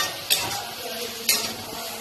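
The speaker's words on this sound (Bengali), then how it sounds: "ছাড়ানো মাছের মাছটা দিয়ে এইবার ভালো করে নেড়ে নিতে হবে" Fish pieces being stirred in a frying pan over a low-to-medium gas flame, a soft steady sizzle broken by two sharp scraping clinks of the spatula against the pan.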